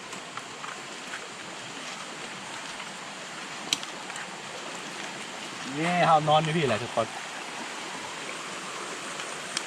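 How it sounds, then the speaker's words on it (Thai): Steady rain falls over a forest campsite in the rainy season, a constant close hiss of drops with someone speaking briefly midway. "ฝนตก"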